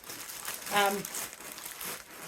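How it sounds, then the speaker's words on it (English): Large paper shopping bags, used as packing fill, crumple and crinkle continuously up close while a person talks over the rustling. "So you end up with an abundance of large shopping bags, large paper shopping bags."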